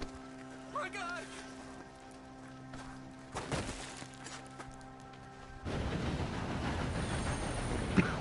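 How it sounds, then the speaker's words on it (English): A video game train rumbles past at close range, a dense heavy roar surging in after a quieter stretch with rattling and a faint horn-like tone, while characters speak. "For a moment, I thought you were gonna let that train ride right over us."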